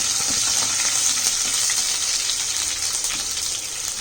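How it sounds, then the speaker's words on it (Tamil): Green chillies and dried red chillies being stirred as they fry in a pan for an onion egg fry: a loud, dense, continuous sizzle close by, with faint scraping stirs throughout and no talking. "பச்சை மிளகா, வத்தல் மிளகா போட்டு லைட்டாக கிளறிட்டு"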